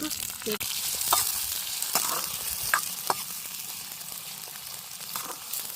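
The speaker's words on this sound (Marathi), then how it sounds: "कांदे पण टाकून घेते लगेच टोमॅटो टाकून घेते" Onions and tomato frying in a pan for a fish dish, a soft continuous sizzle with intermittent spoon clinks and stirring knocks, fairly quiet and close.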